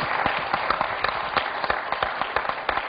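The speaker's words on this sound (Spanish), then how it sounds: "¡Un aplauso para Jesús!" A congregation claps for Jesus during a Spanish-language church sermon, a steady crowd applause with dense overlapping hand claps held at moderate level throughout, heard from amid the room without talk over it.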